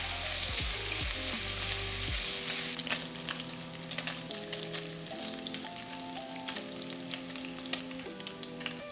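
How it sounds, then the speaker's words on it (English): Bacon sizzles and crackles in a saute pan over medium-high heat, a steady hiss of frying fat with scattered pops and a few stirring scrapes, while background music plays. "Place your bacon in a cold saute pan or pot and turn the heat up to medium-high."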